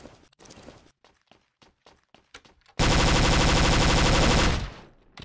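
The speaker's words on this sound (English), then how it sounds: "Those guys are shooting from the floor." Gunfire in the WW2 shooter game Overdose WW2: a string of scattered single shots and footsteps, then a loud, continuous machine-gun burst that roars for nearly two seconds before cutting off.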